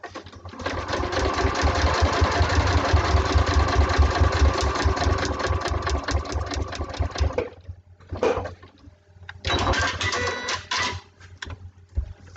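A sewing machine stitches a foundation paper pieced block, a long loud continuous run of several seconds, then a pause and two shorter bursts, close by with no talk.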